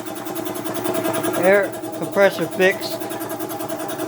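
A repaired air compressor runs with a steady, buzzing motor drone throughout, while someone talks briefly over it nearby.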